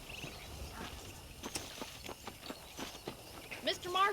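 Horse hooves clip-clopping in Red Dead Redemption 1, a walking horse's steady irregular hoofbeats, fairly quiet, with a voice briefly at the end.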